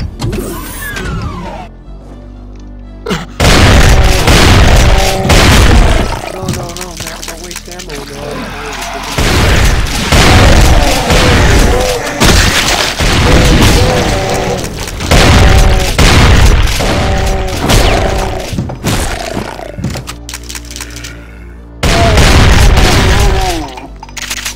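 Explosions and gunfire in the first-person shooter Brutal Doom: loud, dense bursts of blasts and rapid shots that dominate most of the stretch, with a few brief drops into quieter game sound between volleys.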